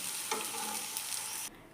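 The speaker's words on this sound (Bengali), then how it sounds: "আলুটা আমি অল্প লবণ আর অল্প হলুদ গুঁড়ো দিয়ে ভেজে নেব" Potato pieces fry in hot oil with a little salt and turmeric, a close steady sizzle with brief stirring scrapes, cutting off abruptly near the end; no talking.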